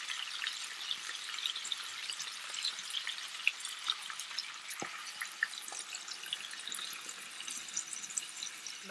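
White wine poured into a hot pan with honey, sizzling and crackling steadily with a fine frying hiss and small pops, close and fairly quiet, with no one talking.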